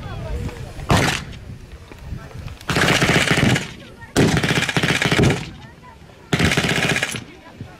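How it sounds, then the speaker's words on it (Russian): Battle reenactment for the 80th anniversary of the 30th battery's defence: loud bursts of rapid machine-gun fire and blasts come in several separate volleys, with people talking in between. "Сейчас тебе покажу, взрывы были такие."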